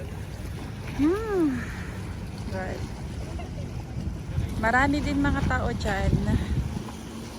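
Steady broadband rush of wind and surf at high tide on a Doha seaside fills the background while a person talks over it and other voices are heard nearby.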